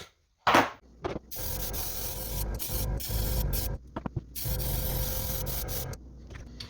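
Black spray paint hisses from a can onto the back of a bluegill topwater swimbait lure in several close bursts, broken by short pauses.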